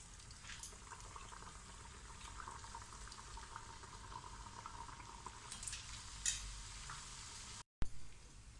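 Vada fry in hot oil as an evening tea-time snack, with a soft, continuous sizzle and bubbling close by, a couple of brief clatters near the end, and no talking.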